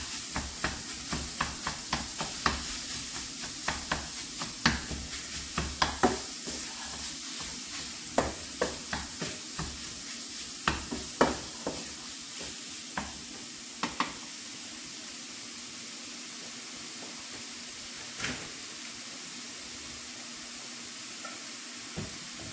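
Sausage frying in a pan with a steady hiss and sizzle, broken by scattered sharp clicks and scrapes of a utensil against the pan, close and without talk.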